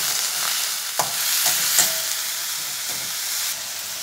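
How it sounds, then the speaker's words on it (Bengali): Ground spices with a splash of water frying in a pan, close steady sizzle broken by a few sharp scrapes and taps as a spoon stirs, no voices. "গুঁড়ো মশলা দিয়েছি, তার জন্য আমি একটু হালকা করে জল দিয়ে দিচ্ছি। এবার নেড়ে কষিয়ে নেব।"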